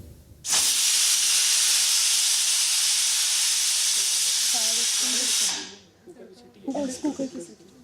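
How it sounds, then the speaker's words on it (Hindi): A loud, sustained pressure cooker whistle blasts steam for about five seconds, then stops, and voices talk afterward. "कुकर की सीटी।"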